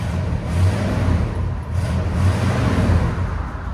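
Deep, rumbling exhaust of a 1960 Cadillac Eldorado with a 390 V8 and valved exhaust kept closed, revving steadily in repeated surges, close and loud with no talk.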